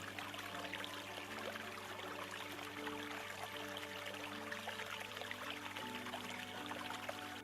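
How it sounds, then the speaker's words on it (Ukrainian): Meltwater trickles in a babbling early-spring stream, a steady continuous gurgle and splash heard close and fairly loud, alone without voices. "Особливо дзвенять дзюркотливі струмочки"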